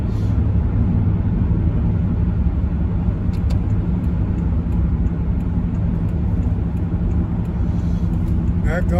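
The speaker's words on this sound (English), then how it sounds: "There goes a pickup truck with," A pickup truck towing a horse trailer passes on a road, a loud, steady low engine and road rumble that stays close throughout, with a few faint clicks near the end.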